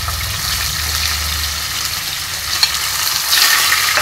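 Boiled potato pieces deep fry in hot oil, a loud continuous bubbling sizzle that holds steady throughout, with a faint clink near the end.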